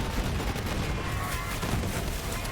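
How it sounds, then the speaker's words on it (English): Rapid gunfire from shooting enemies in Borderlands 3, playing as Zane, forms a dense, continuous barrage of overlapping shots and blasts with no talking over it. "I can just shoot stuff"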